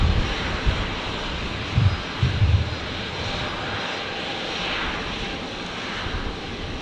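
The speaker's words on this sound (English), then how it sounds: "the aircraft on final. 19 left is the Jetstar 321 Neo in the new livery" A Jetstar Airbus A321neo on final approach to runway 19 left gives a continuous moderate jet roar, with a few brief low thumps of wind buffeting the microphone; no one speaks.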